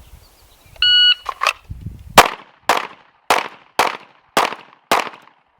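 Pistol shots fired in a shooting drill on a range, six sharp, loud reports in a steady, evenly spaced string after a short electronic beep timer and some handling noise.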